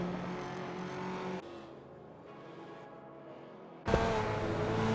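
Race cars roar through a video game race, a Ford RS200 among them, with steady engine drone that cuts abruptly to a quieter engine note and then jumps back to a louder, higher revving one near the end.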